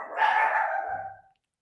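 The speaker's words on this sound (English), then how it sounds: "The dogs are barking." A dog gives a single drawn-out bark that stretches into a short howl, moderately loud and somewhat distant, fading out after about a second with quiet following.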